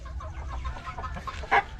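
Hens cluck and murmur in a steady jumble at close range, with a sharper squawk near the end.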